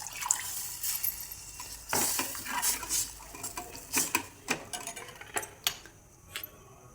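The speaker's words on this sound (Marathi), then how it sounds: "हे छान हलवायचं. सारखं हलवत राहायचं." A spoon clinks and scrapes against a pot while stirring a Maharashtrian kadhi mixture, giving faint, irregular taps and swishes at close range over a quiet background.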